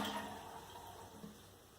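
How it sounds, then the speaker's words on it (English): A toilet flushes while the fill valve is held up, giving a soft, fairly distant rush of draining water that slowly tapers off. "I'm going to flush the toilet and hold the valve up to get as much of that water out as possible"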